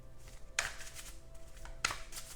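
Playing or tarot-style cards shuffled by hand, two quick riffling bursts about a second apart against a quiet room.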